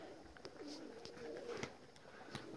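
Pigeons cooing outdoors among flying birds, a soft low repeated coo with faint background ambience and a few clicks, fairly quiet and distant.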